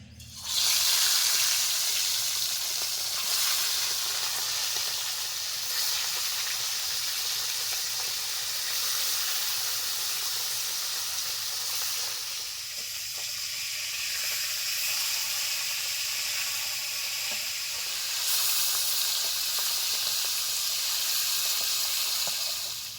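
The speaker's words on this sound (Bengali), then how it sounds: "তো তেল ভালো করে গরম করে নিয়েছি মাছগুলোকে ভেজে নিচ্ছি" Bata fish frying in hot mustard oil in a kadai, a steady loud sizzle and hiss that runs throughout with no talk over it.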